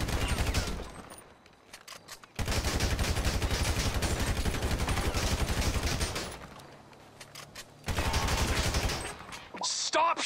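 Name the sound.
gunfire in the video game GTA 5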